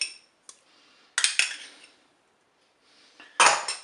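A spoon scrapes and clinks against a pot while sauce with tomato paste and mustard is stirred, giving a few irregular metallic bursts separated by quiet gaps, close and moderately loud.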